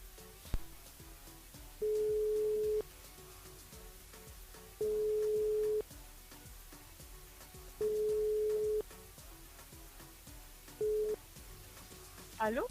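A telephone rings out while calling a radio listener during a live broadcast, with four evenly spaced ring tones over a faint background and a brief click at the end.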